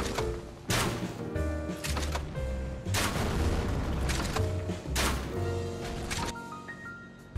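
Crossbow shots in Elden Ring land as several loud, sharp thumps with booming impacts, spaced irregularly about every second or two over a steady musical game backdrop.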